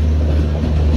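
A train passes close by at Chittoor railway station, giving a steady, loud low rumble of rolling wheels and carriages.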